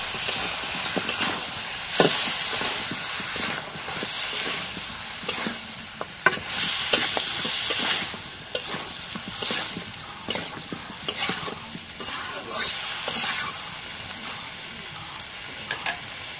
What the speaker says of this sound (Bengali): এখন বলের মুরগির মাংসটা আর আলুটা দিয়ে দিই, দিয়ে কষাই নিই